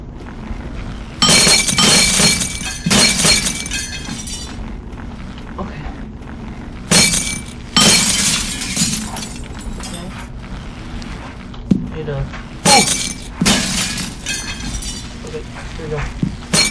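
Glass shatters repeatedly in the Happy Wheels video game, with several loud, bright crashing bursts spread across the stretch and quieter crackling between them, while a person talks over the game.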